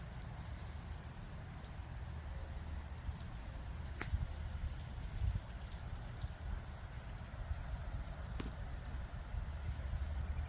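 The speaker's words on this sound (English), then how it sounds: "we got both sprinklers cross covering each other" Lawn irrigation sprinklers spray water across a renovated San Jose yard, two heads cross-covering each other in light wind, making a steady soft hiss with occasional faint patters and no talking.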